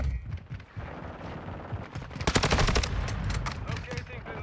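Loud bursts of automatic rifle fire from an STB 556 in a Call of Duty match, rattling rapidly and continuously with a sharp intensifying stretch midway, close to the listener and mixed with faint game noise.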